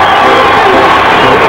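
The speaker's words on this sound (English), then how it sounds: "Listen to the crowd with 20 seconds on the shot clock." Loud, dense basketball arena crowd roaring and cheering at a 1986 college game between Tulsa and Bradley, a steady wall of voices with whoops, close and sustained throughout.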